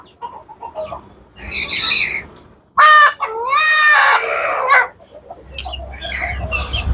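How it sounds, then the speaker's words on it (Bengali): Chickens with black crests on a poultry farm cluck in short bursts, and a loud rooster crow cuts in midway before more clucking and clattering follow. "আমার এই দেখেন এটা জুটিওয়ালা মুরগি এদের কালো জুটি"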